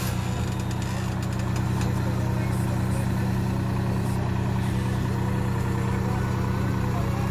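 A Massey Ferguson 9500 4x4 or Swaraj 963 4x4 tractor fitted with a 10-foot Vigad rotavator idles with a steady low diesel rumble and vibration, continuous and close, with faint ticking on top.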